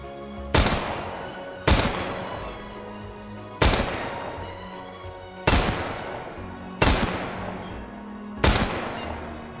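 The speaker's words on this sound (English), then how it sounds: "It is a Taurus revolver, a raging hunter to be more specific, and it is chambered in .44 Magnum." A Taurus Raging Hunter revolver chambered in .44 Magnum fires six loud, sharp shots at uneven intervals in the H3VR game. Each crack is followed by a ringing decay before the next shot, with no talking.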